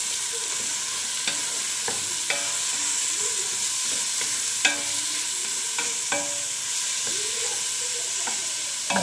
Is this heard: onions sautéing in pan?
yes